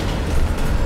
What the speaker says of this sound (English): Doesn't look very comfy, this train, does it?